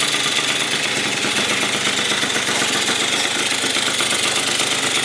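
A rebuilt Yamaha BWS 70cc scooter engine idles outdoors with a slight exhaust leak, a steady, loud, close buzzing run with a faint knocking rattle and no pauses or speech.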